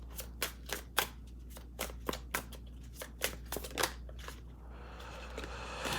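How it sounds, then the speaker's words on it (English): Tarot cards being shuffled by hand at close range, a string of crisp riffling snaps and flicks at an irregular rhythm, quiet against a low room hum, ending in a softer rustle. "And I'm drawn to like shuffle more cards"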